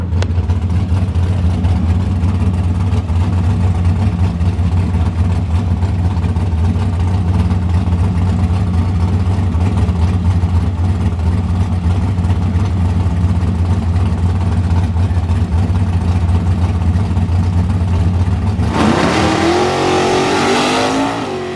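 Drag race cars at a US 41 drag strip rumble loudly and steadily with revving engines for most of the stretch, then one surges into a hard acceleration near the end.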